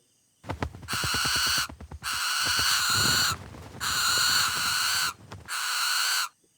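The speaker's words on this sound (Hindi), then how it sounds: "3 उल्लू चीखते हुए फिर बाहर निकले" Three owls screech in loud, close, harsh bursts. The calls come in several long, raspy stretches separated by short gaps, with no talking.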